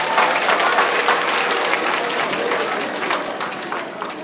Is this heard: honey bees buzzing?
no